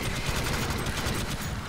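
Rapid gunfire in the top-down shooter game Alien Swarm, a dense continuous burst of repeated shots filling the whole short stretch, loud and close with no gaps.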